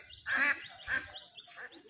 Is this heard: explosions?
no